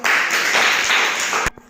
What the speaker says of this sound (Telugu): సోమేష్ క్లాప్స్ కొట్టండి